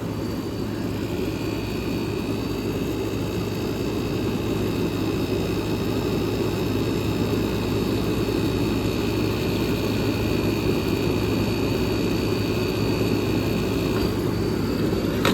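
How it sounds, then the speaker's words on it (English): Steady, even hum and rushing airflow from a running vintage Super Thrust air conditioner, with a constant low motor drone and faint high tones, unchanging throughout with no talk. "Typical of your Super Thrust air conditioners."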